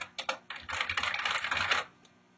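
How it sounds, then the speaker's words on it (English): Rapid, close keystrokes clatter on a computer keyboard while ActionScript code is entered in Flash CS3, starting with a few separate taps and then running into a dense burst of typing before it stops. "The advantage of this is if I type in multiple lines"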